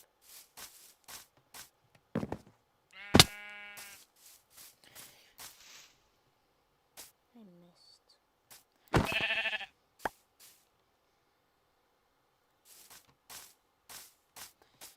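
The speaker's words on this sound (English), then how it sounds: "Oh look, there's a sheep." A sheep bleats twice in Minecraft, short wavering cries standing out among scattered footsteps and soft game clicks, with a brief spoken remark nearby.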